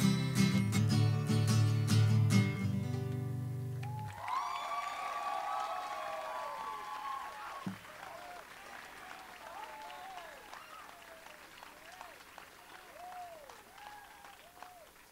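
Applause and cheering from a crowd at a high school graduation ceremony, with music fading out at first, then sustained clapping that slowly thins over about fifteen seconds with scattered whoops.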